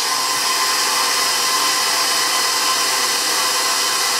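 An electric hand mixer whirs steadily on medium-low speed, beating egg yolks for Polish Easter babka, a constant close motor hum lasting throughout with no voices.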